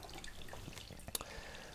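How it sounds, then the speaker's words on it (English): Green vegetable juice drips from pressed pulp: a few faint, irregular droplets patter into liquid close by in a quiet room, with one slightly sharper plink near the end. "It's still dripping"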